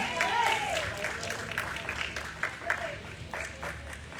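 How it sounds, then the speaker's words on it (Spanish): Congregation clapping for the Lord in a church, scattered applause of moderate loudness mixed with voices and a raised, exclamatory voice over it. "Si está gozoso, denle un aplauso al Señor."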